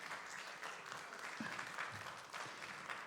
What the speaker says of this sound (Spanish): Denle un aplauso al Señor para que despierte, hermano